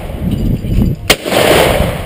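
A single sharp shotgun blast cracks out at a sporting clays range, loud and close, preceded by faint outdoor background noise and soft voices and followed by a fading echo.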